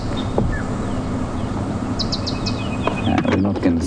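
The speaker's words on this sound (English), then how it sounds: "You know what there is in here that I can hear is a white-bellied sunbird" A white-bellied sunbird gives a short run of four quick, thin ticking calls at a distance at sunrise on a safari drive, over a low outdoor background with faint chirps from other birds.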